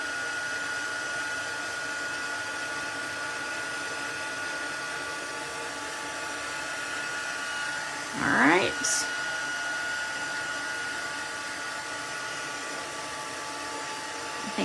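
A heat tool blows on the back of a sheet of watercolor paper, giving a steady, fairly loud whirring rush that holds level throughout, with a brief rising whine and chirp of handling partway through.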